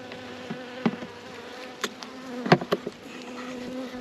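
Honeybees buzz around hives in a large UK apiary, a steady outdoor hum with a few louder passes of bees flying close by.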